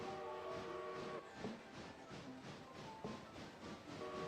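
In the Railroader video game, a long train rolls past with a steady rumble and rhythmic clatter of wagons, while tonal whistle-like lines sound faintly through the quiet, distant-sounding mix.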